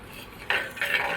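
Onion, garlic and curry leaves frying in a pan, heard as quiet clinks and scraping from stirring with a utensil, two brief bursts of contact against a faint background.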